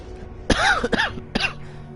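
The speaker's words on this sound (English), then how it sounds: "I think I have a cold, so I'm coughing a lot." Two sharp coughs from a person with a cold, close to the mic, separated by a brief pause with a throat-clearing quality, over a quiet background hum.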